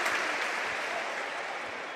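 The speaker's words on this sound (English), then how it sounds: "Piqué leading the applause there" Applause spreads through the stadium crowd at a Barcelona versus Real Betis football match, a broad, even wash of clapping that holds steady for the whole stretch.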